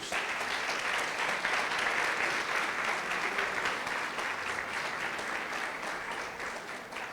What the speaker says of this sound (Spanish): vamos a darle un aplauso al Señor por ellos